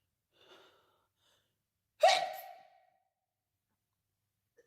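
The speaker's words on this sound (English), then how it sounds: "You have a good fake sneeze." A woman's staged fake sneeze: a faint breathy intake, then one sharp, nasal burst that trails off in a short breathy tail, quiet and alone in a still room.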